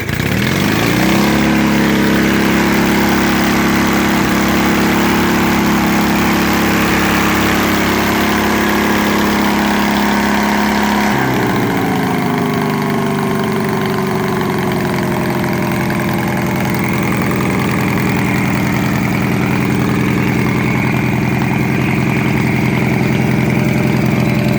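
A Lincoln Weldanpower 225 G7 welder generator engine runs loud and steady with non-original exhaust, a harsh sustained drone that drops to a lower, smoother idle partway through, with no talking.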